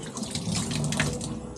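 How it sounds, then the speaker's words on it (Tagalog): Water runs from a tap in a steady, splashing stream, close and fairly soft, lasting only a moment. "anam na sad agkahinay ang tubig"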